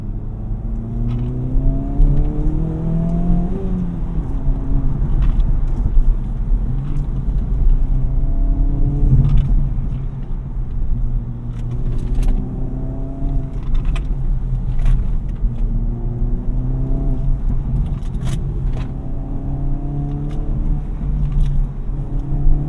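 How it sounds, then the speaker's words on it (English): A 2024 Acura Integra Type S driving hard on a curvy back road, engine revving up and down through gear changes with a continuous close rumble and occasional mechanical clicks, heard alone without talk. "experience for yourself how fun this vehicle is to just dance around on a curvy road"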